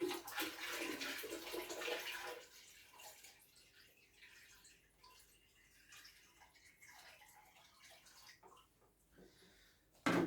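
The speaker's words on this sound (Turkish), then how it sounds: "Bunu ekliyorum. Yeni su." Fresh water is poured into a shrimp aquarium during a water change. A loud gush at first settles into a quieter trickle and bubbling close by, with no talk.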